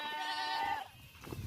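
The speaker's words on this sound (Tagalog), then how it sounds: "Nandito yung aking mga kambing." Goats on a small farm let out a long, wavering bleat, close and clear, followed by faint rustling and low background sounds.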